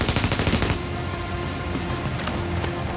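Automatic gunfire in the video game The Division comes as a loud, rapid burst for under a second. Sustained noisy combat ambience with echoing rumble follows it.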